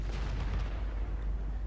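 Artillery fire in World of Tanks with a GW Panther self-propelled gun in play: faint, distant low rumbling booms roll under a steady quiet background, with no voices.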